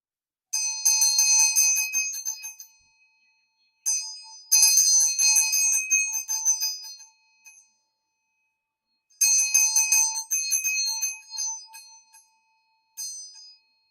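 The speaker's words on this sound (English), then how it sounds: "So I'll do the Vajra Bell." Vajra bell rung in bursts of bright, shimmering metallic tones with a faint lower hum, each strike left to ring and fade before the next, clear and close with silent gaps between.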